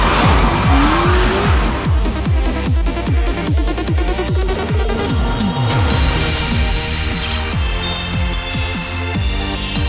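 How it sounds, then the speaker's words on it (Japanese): Tires squeal and skid nonstop as drifting cars race in The Touge Drift King 1980, a smartphone racing game supervised by Keiichi Tsuchiya, with loud engine roar and repeated sliding screeches throughout. "土屋圭一監修スマートフォン用レースゲーム、ザ・峠ドリフトキング1980、誰よりも早く駆け抜けろ"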